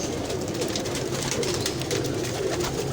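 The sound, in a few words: pigeons cooing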